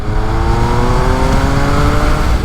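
An MV three-cylinder motorcycle engine runs loudly and steadily close by, with a rough, mechanical clatter under a constant droning hum throughout.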